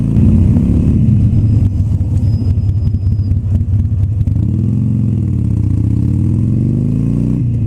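A vehicle with a worn, squealing clutch rides slowly around a residential community to warm up, its steady mid-range engine drone close and continuous with some light clatter and rising and falling revs, no talking.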